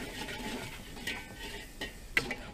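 A spoon stirs and scrapes an onion and spice mixture with cumin seed, chili powder and rock salt across the bottom of a pan for a Kenyan-style curry, giving soft repeated scrapes with a few sharper clinks, no talking.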